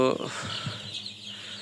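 Nine-day-old chicks on a small poultry farm peep and cluck briefly near the start, giving way to a steady low background hum with faint bird noises.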